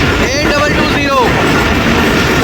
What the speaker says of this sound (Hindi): अब हज़ारा एक्सप्रेस सामने आ रही है जी